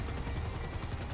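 Helicopter in the video game GTA V, a loud steady rotor thump pulsing rapidly over a broad engine rush, close and continuous.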